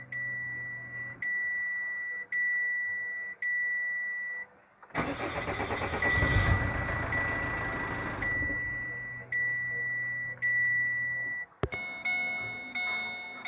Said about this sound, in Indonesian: Dengarkan pompa terus.